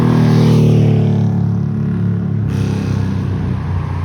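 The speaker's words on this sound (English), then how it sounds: "Oh, here comes a motorcycle." A motorcycle passes close by on a street in an office area, giving a loud, steady engine rumble that eases slightly as it goes, with no talking.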